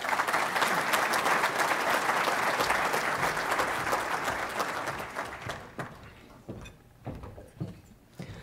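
Audience applause at a county State of the County address welcoming a speaker to the podium, a dense crowd clapping loudly for several seconds, then thinning to scattered individual claps near the end.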